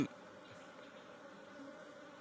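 Bees hovering around a hive in the hills give a faint, steady buzzing drone that fills the short stretch without any voices.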